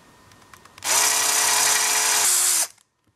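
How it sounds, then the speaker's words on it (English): A power drill bores a hole through a GoPro Hero3 back plate, letting out one steady high whine at close range for nearly two seconds before it cuts off. A few faint taps come before it. "I'm just going to drill down my first hole"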